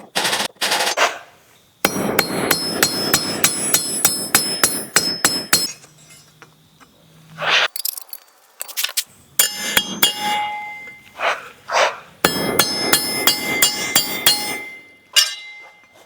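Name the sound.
hammering rivets cold on hand-forged spatulas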